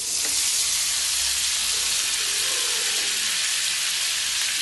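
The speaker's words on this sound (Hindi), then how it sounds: "अब हमने जो चिकन प्रिपेयर किया हुआ था उसे हम इस पैन में डालेंगे" Marinated chicken sizzles in a pan of hot butter, a steady, close, bright frying hiss that stays even throughout with faint stirring underneath.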